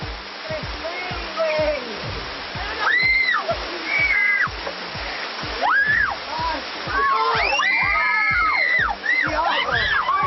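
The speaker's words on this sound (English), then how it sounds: "their destination is an ice-cold waterfall" Ice-cold waterfall pouring steadily throughout, with splashing water and rhythmic low thumps underneath, while excited voices shout and call out over the rushing water.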